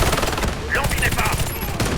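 Machine gun fire in the video game Warface comes as a loud, rapid burst of shots that runs the whole moment, layered with brief in-game radio-style chatter and effects.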